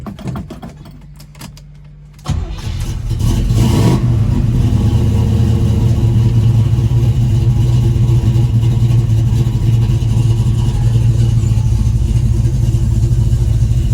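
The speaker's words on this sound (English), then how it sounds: "We'll do a cold start for you." A 1972 Chevrolet Nova engine cold-starts after a couple of pedal pumps: a few quiet clicks, then the starter catches and the engine fires into a loud, steady, close idle rumble that holds to the end.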